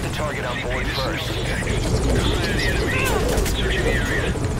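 Helicopter in the stealth game Metal Gear Solid V: Ground Zeroes, a steady rotor drone holding at even loudness throughout, with voices speaking over it.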